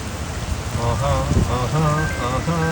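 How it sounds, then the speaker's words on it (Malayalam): Steady rain falls at Vizhinjam during a thunderstorm, a continuous close patter with a low rumble mixed in, and a voice speaking over it. "ഇടിയൊക്കെ വെട്ടുന്നുണ്ട് കേട്ടോ."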